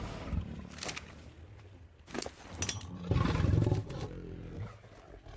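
A tamed wolf creature in Ark: Survival Evolved gives low growling roars, with the loudest one near the middle of the clip, heard close with no talking.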